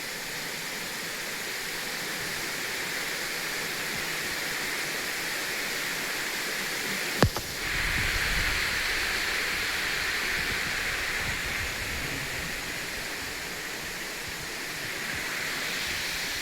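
Steady rushing water flows continuously near a hilltop Siddhaganesh temple at Shirvande, Sindhudurg, with one brief sharp knock partway through.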